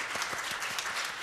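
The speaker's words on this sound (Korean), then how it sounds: "우리 두 학생한테 박수 한번." A church congregation gives brief applause for two students during a Sunday service, a dense patter of many hands clapping continuously for about a second.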